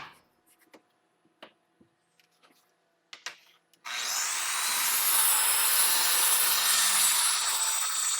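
A saw cuts through a wooden piece for a measure box build, starting after a few light handling taps and then running as a loud, steady continuous rasp to the end.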